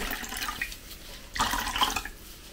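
Water running and dripping from a soaked, freshly dyed wool skein as it is lifted from a basin and wrung out, a close splashing trickle with a louder burst partway through.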